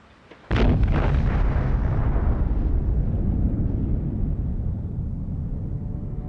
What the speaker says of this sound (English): The explosion of the first atomic bomb marks a turning point for humankind.